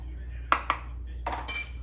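A few sharp metallic clinks and scrapes of a spoon scooping ice cream from its container, close by, with a low steady hum underneath.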